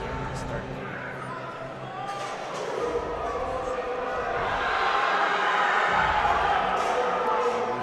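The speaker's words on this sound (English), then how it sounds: "The crowd right now and the energy is absolutely ridiculous." Crowd noise fills a collegiate powerlifting nationals venue, a steady roar of cheering and shouting that swells louder toward the end, with people talking in the background.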